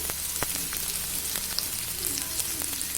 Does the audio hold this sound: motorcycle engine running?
no